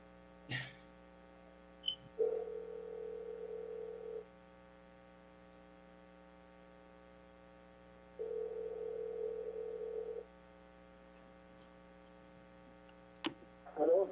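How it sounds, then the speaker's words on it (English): A telephone ringback tone sounds twice during a planning commission meeting, each a two-second burst separated by a long pause over a low steady hum, with a few clicks. "You guys hear the ringing?"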